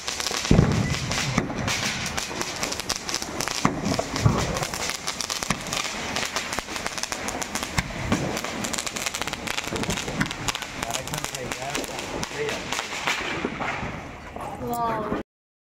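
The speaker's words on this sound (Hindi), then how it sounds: "पटाखे हो चुकी है" Diwali firecrackers and fireworks burst in dense, continuous crackling pops and bangs, loud and close, filling the whole stretch before fading out at the end, with people's voices faintly mixed in.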